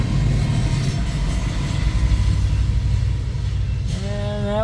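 A CN freight train rolls past with a rear EMD diesel locomotive, a rebuilt unit working as a trailing pusher, throttling up; a steady, loud, near rumble of engine and rolling wagons fills the scene throughout with no pause.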